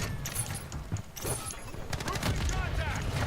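Warzone 2 gunfire, including a shotgun, as scattered close shots and bursts over a busy in-game mix, with someone talking over part of it.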